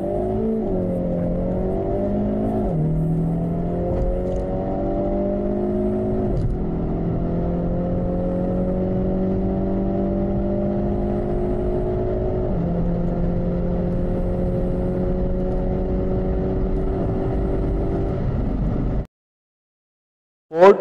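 Hyundai i30 N Line accelerating from 0 to 200 km/h: a steady engine drone climbing in pitch through several gear changes, each marked by a drop and renewed rise, continuous for about nineteen seconds before cutting off.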